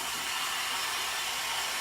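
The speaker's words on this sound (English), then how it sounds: "Just use a blow dryer." A blow dryer runs steadily to dry a reusable chalk transfer, a continuous close hissing whoosh of air and motor with no talk.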